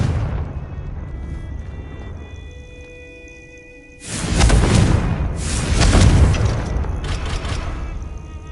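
Confringo explosive spell in Hogwarts Legacy, a loud deep booming blast that erupts after a quieter ambient stretch, followed by a second rumbling burst and a lingering roar, with no talk.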